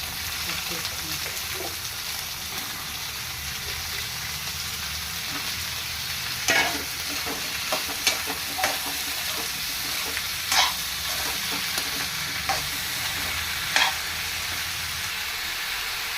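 Potato pieces frying with onions in a pan, a constant sizzle with scattered scrapes and clacks of a spoon stirring, and faint speech here and there.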